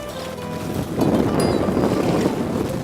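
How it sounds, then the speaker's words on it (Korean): Strong wind gusts across secluded seaside rocks on a rock-fishing outing for largescale blackfish. The wind forms a loud, continuous roar and buffeting rumble that thickens after the first second and persists throughout, with no voices. "바람 소리가 심상치 않다."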